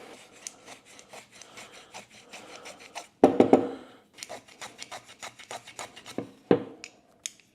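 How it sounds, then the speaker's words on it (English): A block plane shaves wood off the sides of a wooden drawer in repeated rasping strokes, close and crisp, with a few louder, heavier passes in the middle. "take my block plane and shave off on either side the same amount"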